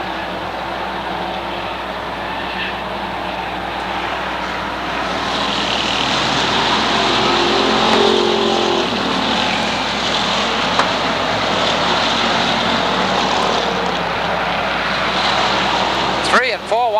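A field of pure stock race cars at the Waterford Speedbowl oval roars past in a sustained, loud engine rumble that swells midway, with a commentator talking over it and a brief squeal near the end.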